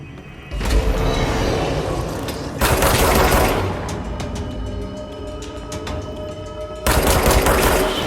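Gunfire in the video game Control, loud bursts of rapid shots in several volleys separated by short pauses, with clattering mechanical sounds between bursts.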